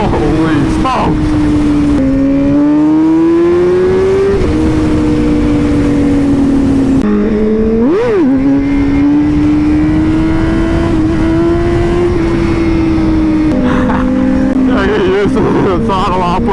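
A Honda Fireblade sport motorcycle revs hard and accelerates, its loud engine whine rising and dropping through gear shifts, up close and continuous, with a rider's voice briefly under the roar.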